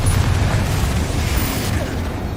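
A Confringo fire spell from Hogwarts Legacy bursts into a loud, sustained explosive rumble, with a deep booming roar that holds steady for a couple of seconds before slowly fading.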